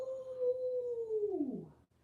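A person imitates a wolf howling with one long, sustained, fairly quiet howl that holds steady, then slides down in pitch and trails off.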